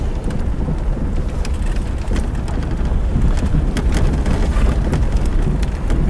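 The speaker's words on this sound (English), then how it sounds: "Okay, so we're going to be driving out." A car drives out along a road at Kings Hill, with a loud, steady low rumble of the engine and tires, mixed with rattling and bumpy crackles throughout, heard from inside the vehicle with no talk.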